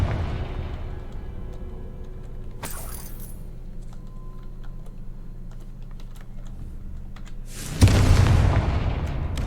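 A Confringo blasting spell goes off in a video game, a sudden loud burst that swells and rumbles near the end after a stretch of light clicks and a brief sharp crack.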